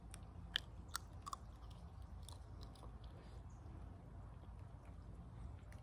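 Boiled peanuts being chewed and bitten open by someone who usually eats them while driving; a few faint, sharp cracks and soft chewing sit over a steady low rumble.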